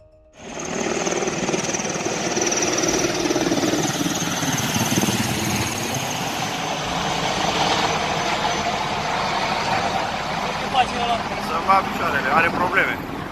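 A U.S. Air Force Sikorsky Black Hawk helicopter with a mechanical problem makes an emergency landing in Charles de Gaulle Square, Bucharest, Romania; its loud, continuous rotor and turbine roar fills the scene without a break.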